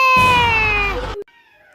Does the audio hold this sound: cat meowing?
yes